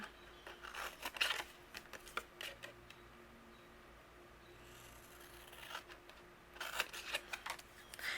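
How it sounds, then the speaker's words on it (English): Paper card is cut along a printed cut line for a shutter card, heard as soft scraping and snipping strokes in two close bursts, separated by a quieter stretch. "I do want to cut along my cut line here"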